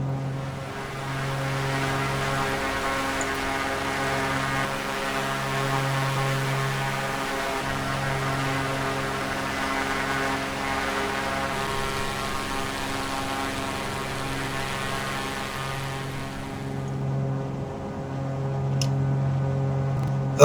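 Light propeller aircraft cruising at 3,500 feet en route from Paris to Troyes, a steady droning engine and propeller hum with constant tonal layers heard from inside the cockpit for the full stretch.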